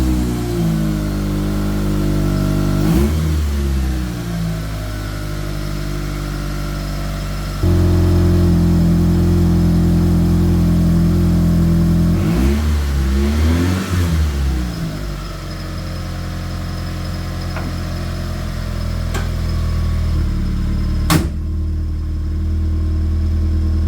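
A rusty project car's engine, its exhaust patched with tape, starts and revs in several rising bursts, a loud close steady drone that swells and drops back to idle between revs.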